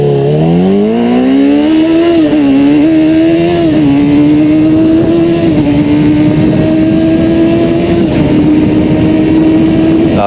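A Suzuki Hayabusa motorcycle accelerates hard from low revs, its engine note climbing steadily through several gear changes into a loud, sustained high-pitched whine, close and continuous with no talk.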